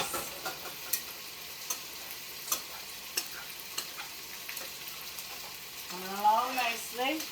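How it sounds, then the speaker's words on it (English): Ginger chicken sizzles and fries in a pan while being stirred, a steady crackling hiss with regular scraping taps; near the end a voice hums or sings briefly over the frying. "Give it a stir, give it a mix."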